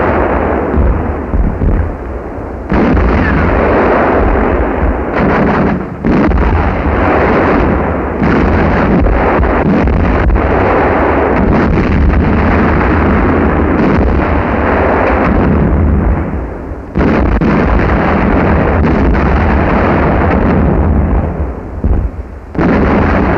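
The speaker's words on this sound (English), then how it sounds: "With a quick artillery barrage, the tanker is set afire and then sunk" A U-boat deck gun fires an artillery barrage at a tanker, heavy booming blasts that crowd together into a loud, sustained roar with brief gaps between volleys.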